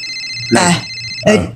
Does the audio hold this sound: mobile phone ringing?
yes